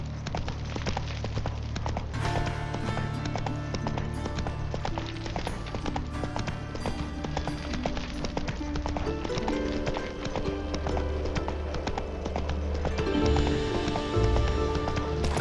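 Horse hooves gallop at a fast, even clip-clop pace throughout The Witcher 3 game scene, loud and close, with a swelling orchestral score underneath.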